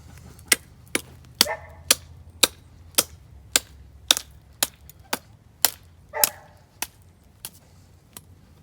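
Sharp, hard chopping blows as hog ribs are whacked loose from the spine of a skinned wild hog, about fifteen loud cracks at a steady, slightly uneven rhythm, close by with no talk.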